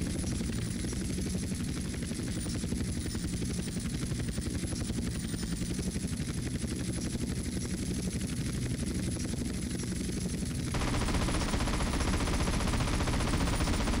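Steady gunfire from a low-flying aircraft in Grand Theft Auto: San Andreas, continuous and loud over a whirring helicopter-like engine drone, growing harsher toward the end.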